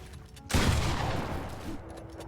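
Gunfire at bots in Fortnite: a sudden loud, dense burst of shots that rolls into a sustained, decaying rumble lasting over a second, with faint game ambience before and after.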